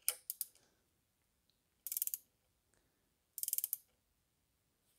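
A 3D printed valve spring compressor for N42/N46 engines strains under load and begins to break, giving three bursts of sharp, rapid crackling clicks separated by quiet pauses.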